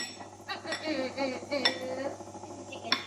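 A spatula scrapes the last of a triple chocolate brownie mix from a bowl, heard as a series of soft scrapes, clinks and knocks against the bowl, close and fairly quiet.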